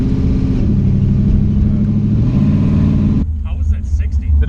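A drag car launching hard down a drag strip, its engine roaring loud and close with a deep, pulsing rumble that shifts pitch as it pulls away, then drops sharply while people talk nearby.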